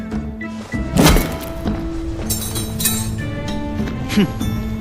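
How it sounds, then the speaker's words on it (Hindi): Someone hammering or knocking on an object as an anime sound effect: a heavy thunk near the start and a second lighter knock later, over a sustained musical background. "तुम उसे ठोक क्यों रहे हो?"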